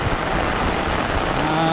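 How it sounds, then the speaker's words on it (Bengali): Heavy rain pours down during fishing on floodwater, a dense, loud drumming patter on nearby surfaces, steady through a short stretch with no clear voices. "বৃষ্টির কারণে তো ক্যামেরা ভিজে যায়"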